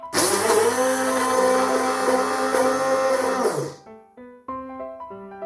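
A blender churns butter for cupcakes, a loud, dense motor roar at close range lasting about four seconds before cutting off abruptly, followed by brief tonal clatter.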